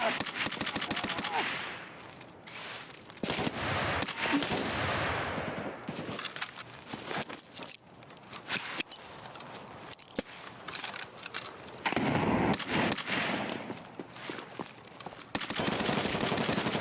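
Rapid bursts of gunfire in the shooter game Escape from Tarkov, loud and dense in long volleys separated by brief lulls, with a voice talking at times.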